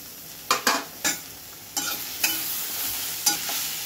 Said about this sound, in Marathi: टोमॅटो पण तुम्हाला त्याच्यात परतून घ्यायचे।